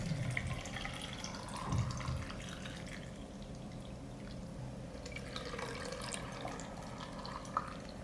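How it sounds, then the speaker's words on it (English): Cold water poured into glass jars packed with sliced cucumbers for pickling, a soft, steady trickle and splash close by, with a few faint drips and clinks and no talking. "I will fill the jars with cold water to cover the cucumbers."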